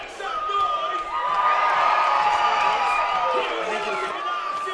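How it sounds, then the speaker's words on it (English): A large crowd cheers and roars continuously, with whistles and shouts rising over the broad wash of noise. "the ground announcer revving up the crowd"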